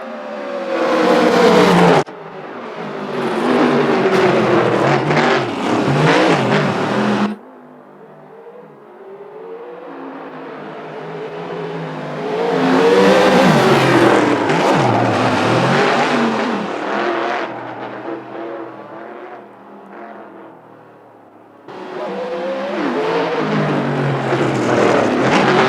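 Race cars in a video game, including a Viper and a GTR, roar past in loud bursts of revving engines, fading briefly between passes before the next car screams through.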